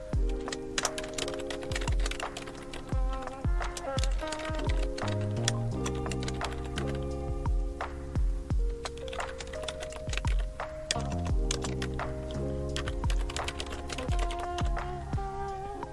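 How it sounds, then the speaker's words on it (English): Typing on a computer keyboard, a close, busy run of sharp key clicks and clacks in irregular bursts with short pauses, alone over steady background music. "We're going to type that in the box here."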